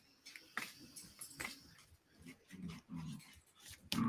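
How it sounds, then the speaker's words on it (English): Dogs playing tug with a toy, giving irregular growls, snorts and scuffling bursts with sharp knocks, fairly close and moderately loud, with no talk. "Sometimes Layla, you can see they're pulling with the toy."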